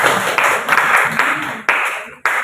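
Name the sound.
applause for a student group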